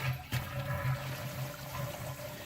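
Water running from a utility tub into a Zoeller M98 sump pump, a steady gurgling flow with a low rhythmic churn, continuous and moderately close in a quiet basement.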